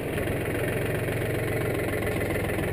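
A farm tractor engine idles steadily nearby, a continuous low rumble with even mechanical pulsing and no voices over it.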